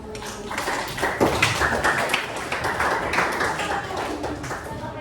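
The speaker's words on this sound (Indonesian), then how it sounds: "Kita beri tepuk tangan dulu" Schoolchildren in a classroom clap together in a dense, fairly loud burst of applause that carries on steadily for several seconds.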